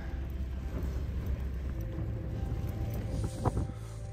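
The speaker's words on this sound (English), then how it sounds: "It's been windy all night." Strong wind blows all around a wild campsite, a continuous low rushing roar that buffets the microphone, with a brief louder gust near the end and no talking.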